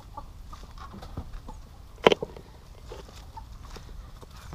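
A hen clucks briefly close by amid faint rustling and scratching, with one louder burst of clucks in the middle.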